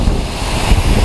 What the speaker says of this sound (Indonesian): Gila, anginnya kencang banget. Kencang banget ya, kayak di lautan.